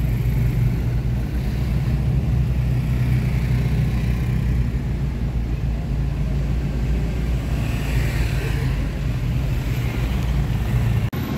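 Dense road traffic from inside a moving delivery vehicle, with motorcycles coming the other way in the opposite lane, makes a loud, steady engine rumble and road roar that runs without a break.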